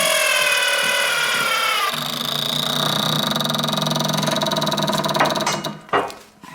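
A transmission actuator on a Husqvarna TS354D garden tractor runs with a loud, close electric motor whine that shifts pitch partway through, then cuts off near the end with a clunk, no speech.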